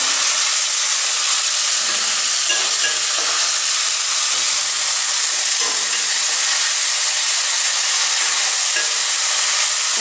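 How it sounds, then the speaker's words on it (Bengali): Spice masala frying hard in a pan over a high gas flame for a tel koi fish curry, giving a loud, steady, dense sizzle and hiss with no pauses or talk. "এবার আমি গ্যাসের আঁচটা বাড়িয়ে নিয়ে মশলাটা খুব সুন্দরভাবে কষে নেব।"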